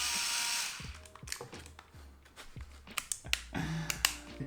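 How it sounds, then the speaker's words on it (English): An IKEA cordless drill running low on battery bores a hole while repairing a Hoya imbricata mount. It gives a series of short, stuttering bursts that keep stopping and restarting, with sharp clicks in between. "I'm gonna drill a final hole somewhere here towards the top."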